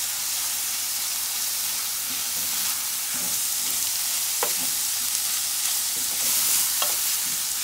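Tomato paste is stirred into a stew of salted fish frying in a pot, giving a steady hissing sizzle with occasional spoon scrapes and clicks, close and unbroken by speech.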